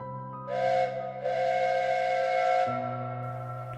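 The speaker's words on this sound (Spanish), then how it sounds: "el silbato siempre era el primer aviso" Steam train whistle sounding two long blasts, a short one then a longer sustained tone over a low rumbling hiss, fairly close and loud, ending as the pitch drops.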